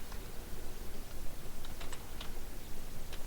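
Steady typing on a computer keyboard with a continuous patter of close key clicks and occasional sharper taps, alone without voices.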